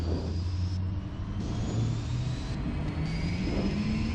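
Twin turbofan engines of a Learjet 45XR spooling to takeoff thrust, a loud steady roar with low rumble and a high rising whine, continuous and close from inside the aircraft.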